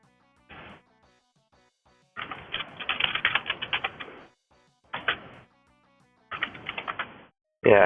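Bursts of rapid key clicks as a cheat code is typed on a computer keyboard, in several separate runs of taps with short pauses of silence between them.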